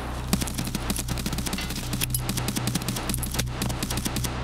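Enemy gunfire in a tactical video game, heard as dense rapid bursts of shots over a constant low engine-like drone, loud and continuous with no voices.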